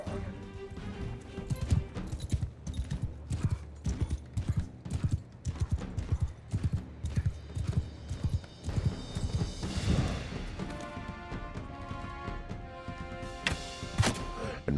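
A horse gallops in the video game Mount & Blade II Bannerlord, its rapid rhythmic hoofbeats loud and close, continuing steadily with a brief whinny-like swell near the middle.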